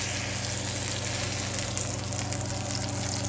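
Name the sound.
mahi mahi frying in a pan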